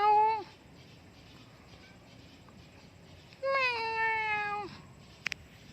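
A cat meows twice in a garden, a short call at the start and a longer drawn-out one later, fairly close and clear against quiet outdoor background.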